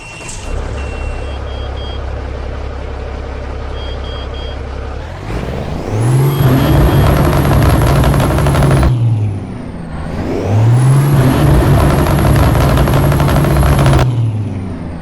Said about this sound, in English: get this glorious W900 started up, because I think you're going to like the sound of this engine